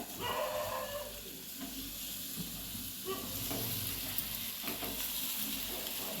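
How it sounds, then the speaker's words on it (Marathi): Mashed potatoes being stirred into a turmeric spice masala frying in a pan for a village-style vada pav filling: steady close sizzling hiss with scraping stir strokes, no talking. "आता आपण हे बारीक करून घेतलेले बटाटे यात टाकून मिक्स"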